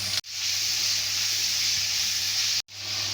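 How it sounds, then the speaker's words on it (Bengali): Chopped beans and cauliflower fry with salt in a hot pan, a steady loud sizzle that holds evenly, broken by two brief silent gaps. "সামান্য একটু লবণ দিয়ে সবজিগুলোকে ভালো করে ভেজে নেব।"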